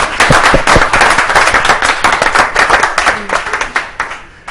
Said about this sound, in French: Applaudissements les gars